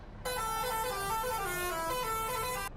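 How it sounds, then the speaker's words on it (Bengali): A single sustained truck horn blast, bright and multi-toned, holding steady for over two seconds before cutting off abruptly. "এর হর্নটা একবার শুনো"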